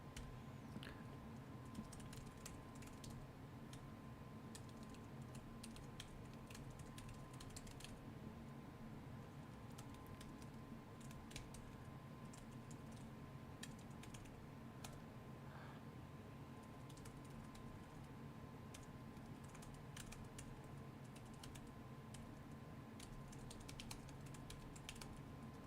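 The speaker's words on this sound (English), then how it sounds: "There's the typing." A computer keyboard clacks during a gaming session. There is rapid, irregular typing with sharp key taps and short bursts over a quiet, faint background, continuous for the whole stretch.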